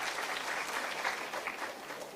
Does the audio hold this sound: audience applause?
yes